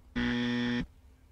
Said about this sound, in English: a buzzer went off